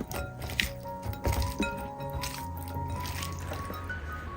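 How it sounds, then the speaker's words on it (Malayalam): Hands rub and mix small sardines with a wet spice masala, making soft squishing and sticky squelching sounds up close, with a few light clinks along the way. "ഇനി കൈ വെച്ചിട്ട് നന്നായിട്ടൊന്ന് തിരുമ്മി യോജിപ്പിച്ചെടുക്കാം."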